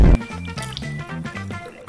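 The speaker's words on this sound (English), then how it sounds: "It's water in a Gatorade bottle." Water sloshing inside a plastic Gatorade bottle being shaken, a quick burst of liquid slaps followed by softer, irregular gurgling movement close up.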